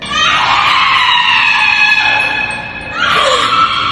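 A woman's high, sustained scream for help, used as a sound effect in a spoken folk tale; one long loud cry, a brief dip, then a second shrill cry, with no talking over it.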